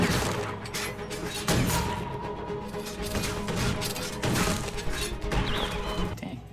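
A run of sharp gunshots and crashing impacts from the animated series Arcane, episode 5, cracks out over a busy, loud soundtrack, with repeated bangs clustered through the scene.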